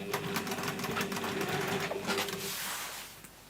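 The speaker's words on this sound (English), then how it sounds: "swivel this round, lift the foot and carry on sewing" Domestic sewing machine stitching continuously along the bottom of a fabric box, a steady close mechanical whir with a fast rhythmic needle beat that winds down and stops near the end.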